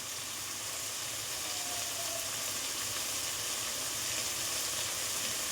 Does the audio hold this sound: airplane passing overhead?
no